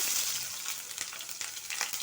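Chopped onion and tomato fry in a hot pan, giving a steady, dense sizzle with faint stirring crackles, close and continuous with no talking.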